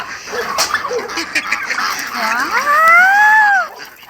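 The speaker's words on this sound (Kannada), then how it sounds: "ಮತ್ತು ಇದರಲ್ಲಿ ಕೋಳಿಗಳು ಫ್ರೆಂಡ್ಸ್, ನಿಮಗೆ ಕೇಳಿಸ್ತಾ ಇದೆಯಾ?" Chickens calling close by: a few short squawks, then one longer, drawn-out call that rises and falls, over faint background noise.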